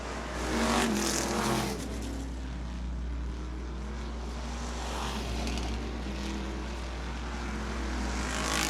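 Sprint cars from the Western Sprint Tour race into a corner at Sunset Speedway, a steady loud engine roar sustained throughout with a slight swell near the start, heard from trackside.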